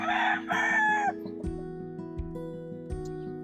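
A gamefowl rooster on a breeding farm crows loudly and close, one long cock-a-doodle-doo call, followed by a steady low mechanical hum with a few soft knocks and no speech.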